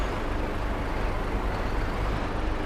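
A Mack truck's Jake brake in Farming Simulator 22, heard as a loud, continuous, rough engine-braking roar that stays steady and close throughout, with no voices.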